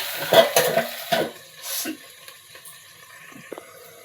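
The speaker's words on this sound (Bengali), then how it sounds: "টমেটোটা আর এই চিংড়িটা দিয়ে দিচ্ছি। এবার দিয়ে এটাকে আবার নাড়াচাড়া করবো।" Taro with tomato and prawns being stirred in a pan: a few scraping, clinking strokes of a spoon against metal with a soft sizzle, fading to quiet with occasional light taps.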